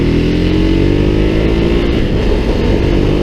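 A 2016 Ducati Hypermotard 939 engine drones loudly and steadily while being ridden, a dense harmonic growl with a slight shift in pitch partway through, and no voices.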